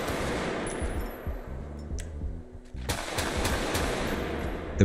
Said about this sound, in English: I can't even hear myself talking when I'm shooting this gun.